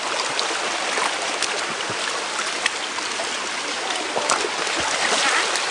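A forest stream runs near a waterfall, making a steady, dense rush of flowing water that stays even and close throughout. Small splashes and trickles rise out of the broad wash, and no voices are heard.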